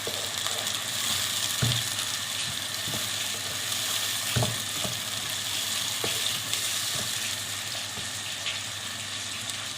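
Tomatoes frying with onions in oil for karahi daal, a continuous close sizzle with occasional stirring knocks and clinks against the pot, steady and moderately loud with no talking.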